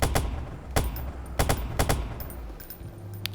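Scattered gunshots in the open-world game Watch Dogs, several sharp loud reports spaced irregularly over a low background, with a couple of quicker doubled shots.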